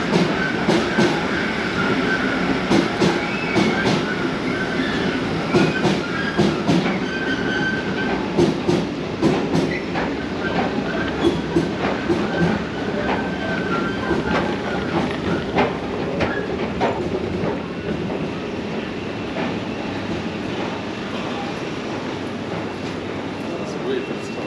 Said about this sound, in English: this is the Thameslink circulation area, right here, and here is the tube station